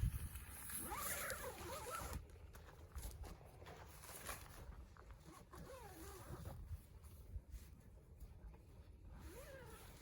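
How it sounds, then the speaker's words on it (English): Zipper on the fly screen door of a motorcycle tent, pulled in several rasping strokes close up against outdoor background noise. "so it has 2 separate zips."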